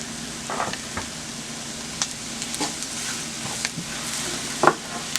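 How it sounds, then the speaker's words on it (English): Pork chops fry in a pan seasoned with lemon pepper, onion powder, salt and minced garlic, giving a steady close sizzle with occasional scrapes and stirring knocks, no voices. "And continue to fry it."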